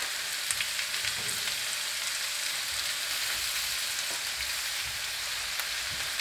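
Onions fry in a pan for a Punjabi lamb samosa filling, giving a steady, even sizzle with soft crackles throughout and no one speaking.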